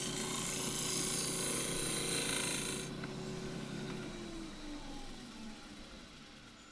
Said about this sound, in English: And the shear scraper scraping around here.